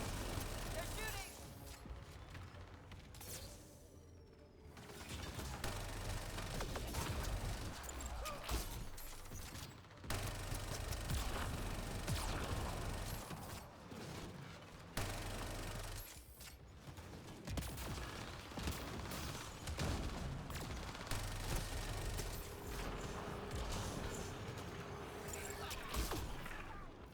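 Mass Effect Andromeda multiplayer combat gunfire: continuous, moderately quiet bursts of shots and mechanical weapon noises layered over a busy game soundscape, with occasional sharper cracks and brief lulls, sustained for the whole stretch.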